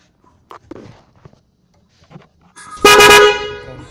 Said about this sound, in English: You can see the sound. Oh, it's a very nice sound.